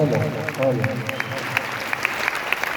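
An audience at a DXN business success-story event claps steadily, a dense patter of applause running under someone speaking loudly over it at the start.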